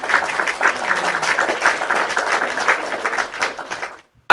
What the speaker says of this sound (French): J'aimerais que tu applaudisses d'abord pour nous.